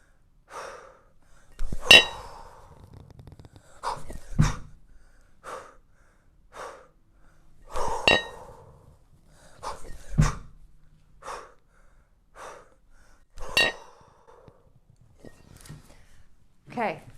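During kettlebell sport jerk practice, an athlete breathes heavily in rhythmic bursts of sharp exhales and gasps every couple of seconds. Faint metallic clinks and thuds from the kettlebell are heard at close range.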